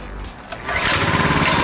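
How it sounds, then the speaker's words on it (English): A KT196 go-kart small engine, warm and without choke, fires on a single pull and settles into a steady loud buzzing idle after a short quiet moment. "One pull. That's it, one pull."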